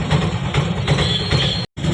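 A train rumbles past nearby with a loud, steady low roar and rhythmic clatter of wheels over the rails, briefly cutting out near the end.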